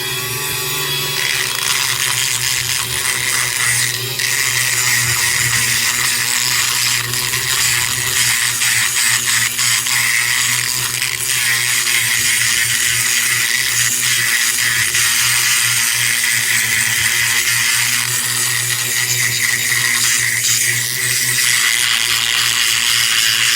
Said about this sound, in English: we're going to grind back here behind the seat.